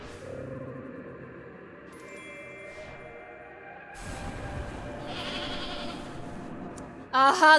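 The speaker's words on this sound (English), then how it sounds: "Was that a goat? Did I just hear a goat just now?" Goat bleating in the video game Little Goody Two Shoes, a wavering cry heard over layered game music and ambience, followed by a brighter, louder burst near the end.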